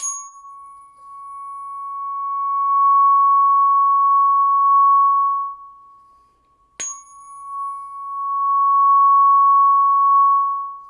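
A high, pure ringing tone from a short tuning fork under three inches long swells and fades, then a sharp metallic strike sets it ringing again, sustaining steadily in a quiet room.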